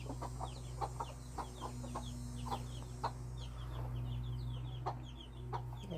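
Several mother hens with newly hatched chicks cluck softly and repeatedly at close range, with high peeps scattered among the steady low farmyard hum.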